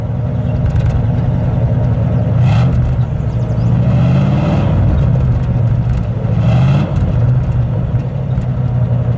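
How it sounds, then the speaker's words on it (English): A 1953 Chrysler New Yorker Deluxe convertible settles at idle and is revved twice, each blip swelling the exhaust roar before it drops back to a low rumble. The engine is close and loud throughout. "Bill, give it a rev."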